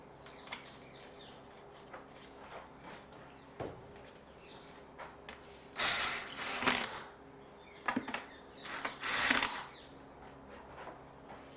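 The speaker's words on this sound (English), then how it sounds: "all we have to do now is just need to tighten the 10mm little bolts" Ratchet wrench tightening small 10mm bolts on a Mercedes 190E during an oil and filter service, heard as bursts of close, rapid clicking across several seconds between quieter handling noises.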